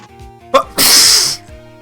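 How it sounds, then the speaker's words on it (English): One loud, forceful human sneeze with a quick sharp intake of breath followed by an explosive burst, close and clear over a quiet, steady music background. "You could hear the fucking pain that sneeze had."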